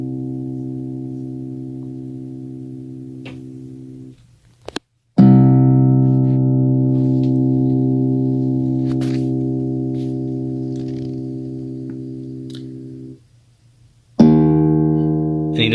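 A sustained synthesized tone from an Akai MPC Live auto-sampling notes holds steady for several seconds, cuts out briefly, then another long note starts, followed by a pause and a third note.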